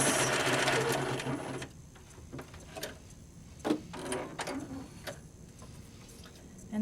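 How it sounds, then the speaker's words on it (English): A Spiegel 60609 sewing machine runs a straight stitch in a fast whirring burst, then slows to sparse mechanical ticks and clicks, close and fairly quiet. "Just straight stitch all the way"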